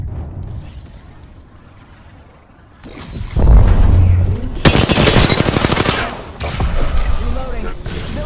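Gunfire in the video game Apex Legends: loud bursts of rapid automatic shots and impacts in a close firefight, coming in several dense volleys with brief gaps, with voices speaking underneath.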